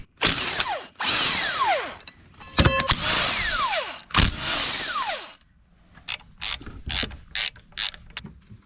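A power tool spins off the side bracket bolts of an oil pan on a KA24DE engine in a 300ZX project car, with several whirring bursts that rise and fall in pitch, followed by short quick zips.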